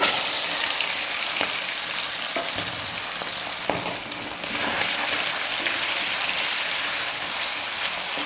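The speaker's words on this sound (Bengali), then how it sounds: "তেলটা গরম হলে আমি আস্তে আস্তে চিকেনগুলোকে ভেজে নেব।" Chicken pieces fry in hot refined oil for a chow mein dish, giving a steady, dense sizzle with faint crackles throughout and no talking.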